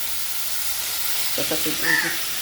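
Potatoes hitting hot oil after whole-spice tempering, a continuous sizzling hiss with brief low clatter and a short rise in intensity near the end; no speech.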